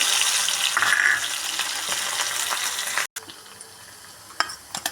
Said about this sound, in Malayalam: ഇനി വെളുത്തുള്ളി ഇടുന്നു